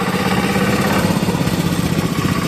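A tractor engine runs loudly and steadily nearby, a continuous rough mid-pitched drone with no speech over it.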